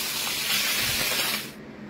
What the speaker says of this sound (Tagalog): Una ay iprito ang mga isda.